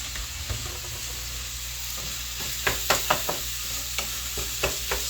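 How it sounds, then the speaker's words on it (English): Sausage frying in a pan, a steady close sizzle with a run of sharp scraping and clacking stir sounds from a utensil moving it around, with no one talking. "Still got the sausage going."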